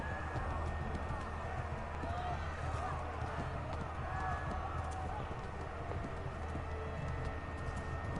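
Horse hooves drum in a rapid gallop across open ground in the medieval game Kingdom Come: Deliverance, a steady, rhythmic clatter at mid distance with voices and ambient game sounds underneath.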